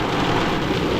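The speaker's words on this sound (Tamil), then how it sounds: "இங்கே பாருங்க மழையை, பயங்கர மழை, சரியான மழை." Heavy April rain pours steadily in Ooty, a dense, continuous roar of falling water with no pauses.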